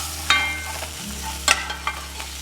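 Onions frying in oil with ginger garlic paste, garam masala and kasuri methi sizzle steadily over a low hum, broken by a few clinking stir strokes, with no one talking.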